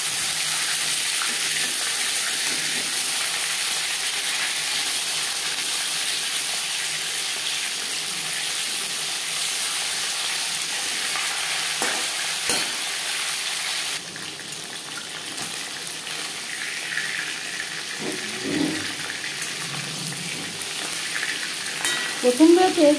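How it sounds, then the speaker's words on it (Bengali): Oily pangas fish frying in hot oil, a loud, steady, close hiss of sizzling that holds throughout, easing slightly partway and joined by a few clatters near the end. "পাঙাশ মাছ তৈলাক্ত মাছ, সাবধানে ভাজতে হবে"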